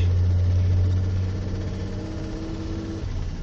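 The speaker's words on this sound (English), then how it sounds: "We're driving to town right now." A car engine hums steadily from inside the cabin on a drive to town, a close, continuous low drone with a strong low tone at first that eases slightly, no talk heard.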